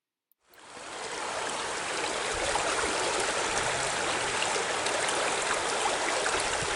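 Steady, continuous rush of a stream flowing outdoors at a rockhounding site, a dense broadband wash of moving water that starts after a brief silence and holds constant, fairly close, with no talk.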